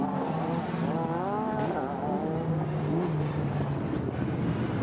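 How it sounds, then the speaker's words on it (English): A Lancia Stratos rally car accelerates uphill at Goodwood, its engine note rising and shifting through gears in a steady, loud roar that fills the whole stretch without pause. "by Ben Mellors as he accelerates up towards the climb around the outside of Madgwick"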